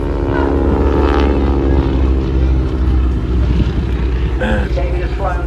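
An aerobatic display aircraft at Southport Airshow passes close with a loud, sustained propeller drone that shifts in pitch as it goes by, with wind buffeting and a commentator talking over it.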